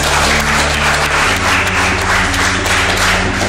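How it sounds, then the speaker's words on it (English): A classroom of high school students in a physics class clapping their hands together in unison, a loud, even run of rhythmic claps close by with no talk. "let's give yourself 10 claps"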